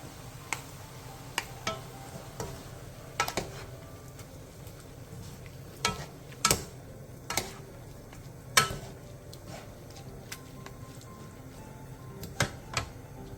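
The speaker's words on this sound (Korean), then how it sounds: "5분 뒤 고춧가루 2스푼 반, 진간장 2스푼, 매실액 반 스푼, 다진 마늘 1스푼을 넣고 골고루 볶아주세요" Stir-frying in a pot with chili powder, soy sauce, plum syrup and minced garlic added: a low steady sizzle under scattered sharp clicks and taps of a utensil against the pan, close and moderately quiet.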